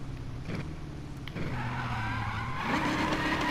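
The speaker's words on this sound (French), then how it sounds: "Je vais vous montrer vite fait l'accélération de cette bagnole." A Ford Roadster in Need for Speed Payback revs and accelerates, its engine tone climbing through gear changes with a brief tire squeal, close and steady with no voices.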